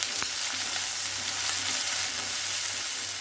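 Steady sizzling of small and large onions frying in a hot pan for masala chicken gravy, a continuous crackling hiss with no talking.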